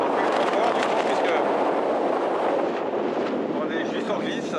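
Steady, loud wind roars across the microphone throughout at a wingfoiling spot, a dense continuous rush with no breaks.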